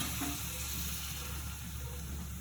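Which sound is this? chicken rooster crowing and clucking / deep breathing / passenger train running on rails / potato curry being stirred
potato curry being stirred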